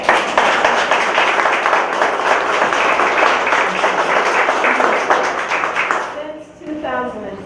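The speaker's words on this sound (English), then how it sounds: "we need to acknowledge the county and give them another round of applause" An audience claps for a community housing event honoring the county, a dense round of applause lasting about six seconds before fading out as a voice begins speaking.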